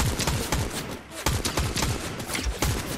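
Rapid bursts of gunfire rattle continuously in Fortnite, dense overlapping shots with barely a pause, loud and close.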